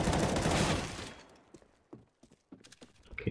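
Gunfire in CS:GO: a dense burst of rapid shots in the first second, then scattered sharp single reports and clatter, fairly close and loud with no talking.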